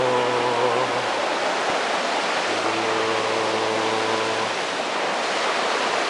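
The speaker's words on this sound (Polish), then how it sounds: "Nad Bystrzycą fajnie jest. Szumi woda, szumi wiatr" River water rushes steadily beside the Bystrzyca with wind adding to the broad hiss, a constant wash of noise while a faint voice hums a tune over it.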